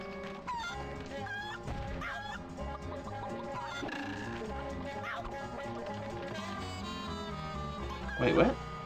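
A chicken clucking in a video game, repeated short clucks and squawks scattered over steady game music and ambience, with a louder squawking burst near the end.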